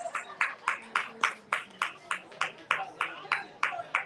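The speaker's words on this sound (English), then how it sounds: "A round of applause." Faint, evenly spaced clapping, about three claps a second, like a small audience applauding together from a distance, at an outdoor literary festival booth.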